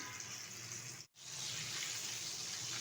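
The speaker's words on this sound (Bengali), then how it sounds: "আমি তেলের মধ্যে ছেড়ে উল্টে পাল্টে একটু সময় নিয়ে ভেজে নেব" Chicken pieces deep-frying in hot oil at medium heat, KFC-style, give a steady loud sizzling hiss that cuts out for a split second partway through, then resumes.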